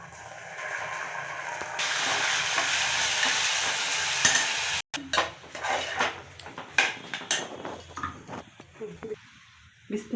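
Rice and moong dal stirred and roasted in oil inside a pressure cooker for pongal, with a steady scraping sizzle that gives way to irregular stirring clatter and spoon knocks, close by, with brief talk.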